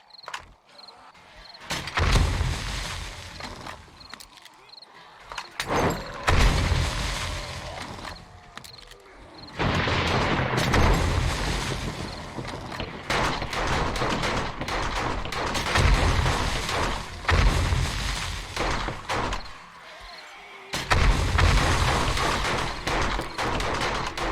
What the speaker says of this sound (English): I hear the turret going crazy.